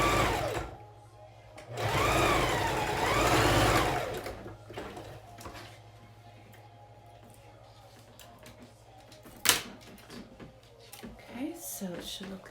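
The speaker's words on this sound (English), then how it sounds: "just put it under the machine and sew a quarter of an inch down" A home sewing machine runs in two bursts, stitching binding onto a pleated fabric face mask with a whirring motor that rises and falls, then quiet handling and a sharp click follow.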